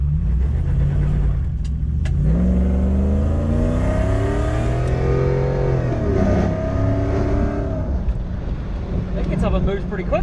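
A supercharged 1UZ-FE V8 in an automatic Toyota Surf accelerates hard, its engine note rising steadily in pitch from inside the cabin, with wind noise and people talking over it.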